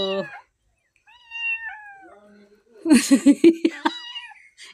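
A local cat gives a drawn-out, wavering meow at close range, followed by a burst of giggling and coughing-like laughter nearby.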